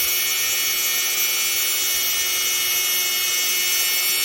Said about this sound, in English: I did turn the speed on the Dremel